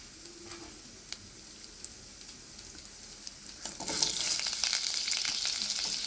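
Crushed garlic with mustard seeds and cumin frying in oil, a quiet sizzle that flares into a loud, crackling spatter around four seconds in and stays busy to the end.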